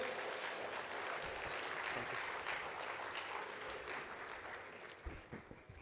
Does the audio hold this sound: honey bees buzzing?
no